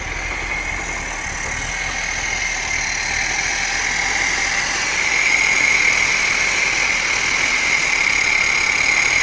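A 1982 Datsun 720 4x4 engine idles steadily and a little roughly, fed by old gas after carburetor work, with a constant mid-range drone and hiss that grows slightly louder partway through.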